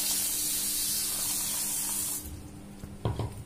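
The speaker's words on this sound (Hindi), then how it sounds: "इसके बाद से मैं इसमें पानी डाल लूँगी।" Water pours steadily into a large pot of yellow mustard seeds, a loud continuous hiss for about two seconds that then drops away, followed by a few soft splashes and sloshes as the seeds are stirred.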